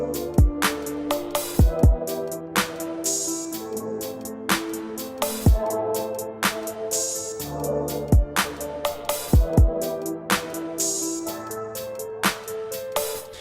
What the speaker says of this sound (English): I came up with a piano piece and it sounds like this.